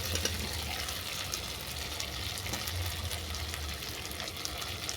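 Fried potato and eggplant being sautéed in a pan for a gab leaf vorta, giving a steady, moderately quiet sizzle and crackle that runs without a break.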